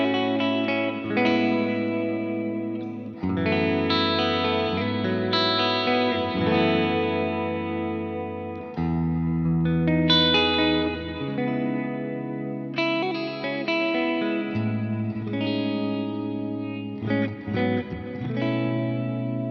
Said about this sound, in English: let's add a couple more effects there, get that kind of nice jangly clean on the go